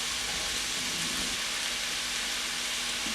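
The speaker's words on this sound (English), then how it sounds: "as the sausage meat is frying, we just want to squish it down with a fork" Sausage meat sizzles in a pan while being pressed down with a fork. A steady, close, broadband hiss and crackle continues throughout with no voices.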